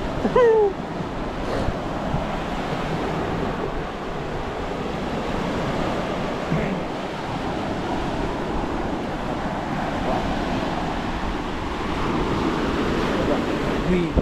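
Sea waves washing onto the Denmark coast under steady wind, a continuous loud roar of surf and gusting air buffeting the microphone throughout.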